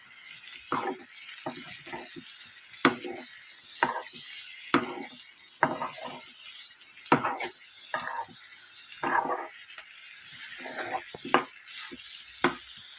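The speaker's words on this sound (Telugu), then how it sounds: "ఇప్పుడు ఈ బీరకాయ ముక్కలంతా కూడా కలిసే విధంగా కలయబెట్టుకోవాలి" Ridge gourd pieces stirred in a frying pan, a spoon scraping and tossing them in irregular close strokes over a faint steady sizzle, with a few sharper clinks against the pan and no talking.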